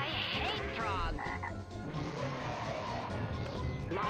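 Frog croaks from a pinball game, a rapid run of ratcheting croaks near the start and again around the middle, over busy machine noise and rumble, fairly loud throughout.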